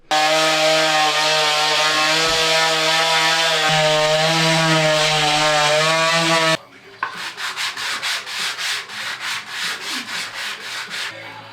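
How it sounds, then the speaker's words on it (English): A loud power sander whines steadily against wood, then gives way to a rhythmic scraping as sanding continues by hand in even back-and-forth strokes. "I'm just going to hang out here until the sanding's done."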